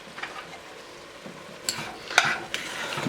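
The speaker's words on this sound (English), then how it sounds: "So now you can hear it all cooking now." Mushrooms cooking in butter in a pan give a soft, continuous sizzle, broken by a few sharper scrapes and clinks as they are stirred.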